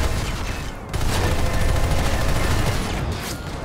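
Sustained rapid gunfire in the Planetside 2 video game, a loud continuous fusillade of overlapping shots with a brief dip near the start, no talking.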